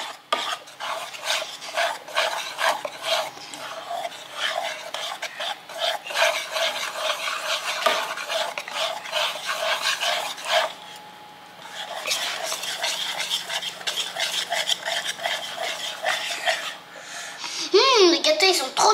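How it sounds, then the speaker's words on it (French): Cake batter being stirred in a bowl, a continuous close rasping scrape in quick repeated strokes with a brief pause partway through, and a voice speaking in places. "Oh ouais, ça mélange bien."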